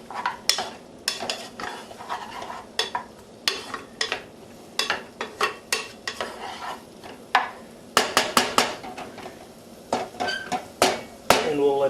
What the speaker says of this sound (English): And break out your trusty old spurtle